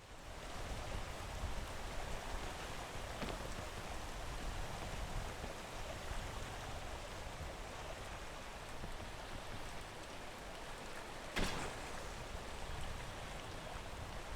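Steady, even hiss of rainfall in a video game continues throughout, with a brief brighter splash or crackle near the end; no voices.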